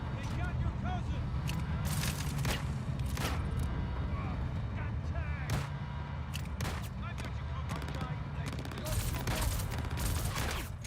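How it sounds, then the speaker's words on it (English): Sniper rifle fire in the video game Star Citizen: sharp gunshot cracks among a dense, continuous bed of game noise and rumble, with several loud bursts spread through the stretch and a player's voice talking over it. "I got sniped by that guy"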